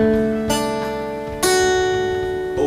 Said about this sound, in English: now what I want you to do is pick through from start to finish all 4 notes